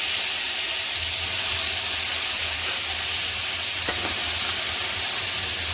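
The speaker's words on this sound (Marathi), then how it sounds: "लगेच ही धुतलेली मेथीची भाजी टाकली" Washed fenugreek leaves with a pinch of asafoetida hit hot oil, giving a steady broadband sizzle and hiss that holds evenly throughout, with a faint stir or clink near the end.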